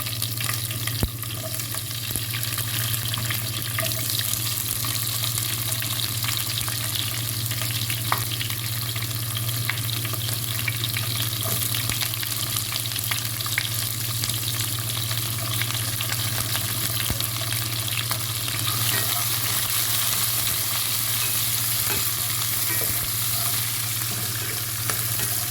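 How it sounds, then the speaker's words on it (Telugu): Mustard seeds and onion spluttering as they fry in hot oil for a moringa leaves dish, a steady close sizzle with scattered crackles and pops running throughout, with no talking. "ఆవాలు కొంచెం చిట్టుపట్లాడాలండి. మనకిట్టి చిట్టుపట్లాడేప్పుడు ఉల్లిపాయ వేసుకుందామండి."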